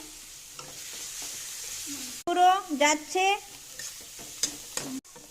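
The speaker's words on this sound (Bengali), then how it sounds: "মশলাটা ভাজা হচ্ছে একটু ফ্রাই করে" A thick spice paste sizzles as it fries in a pan, stirred with a scraping spatula, while a person talks over the cooking of a fish dish.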